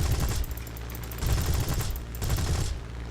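Machine guns fire from an aircraft in War Thunder, three loud bursts of rapid rattling shots separated by short pauses, with no talking.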